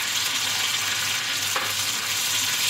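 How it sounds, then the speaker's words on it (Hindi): Garlic, ginger and spices fry in a cup of oil in a kadai, giving a steady, close hiss and sizzle that runs without a break, with faint stirring underneath and no voices. "और इसे अच्छी तरह से भून लेना है।"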